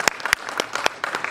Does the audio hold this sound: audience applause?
yes